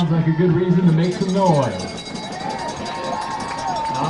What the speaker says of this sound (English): the Eagles crowd is getting loud here on senior night